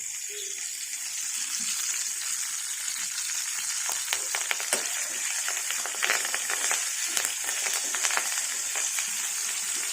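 Curry leaves sizzling in hot frying oil, a continuous close crackling hiss with scattered sharp pops that thicken toward the end.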